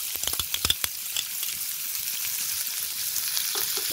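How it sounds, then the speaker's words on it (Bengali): Onions drop into hot oil with a few sharp crackles and pops, then settle into an even, continuous sizzle close by. "পেঁয়াজটা হালকা করে ভেজে নিই"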